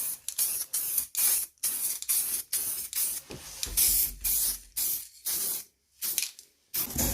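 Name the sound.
spray paint can spraying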